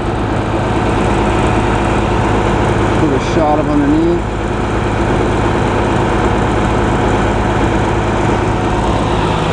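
A Cummins ISC 8.3 liter turbo diesel rated at 300 horsepower idles in a 2011 Blue Bird All American 44-passenger bus, a loud, steady low drone under brief talk.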